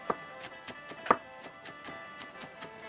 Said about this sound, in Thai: ต้นหอมแล้วก็มี ผักชีฝรั่งนะครับ แล้วก็หั่นเป็นชิ้นเล็ก ๆ นะครับ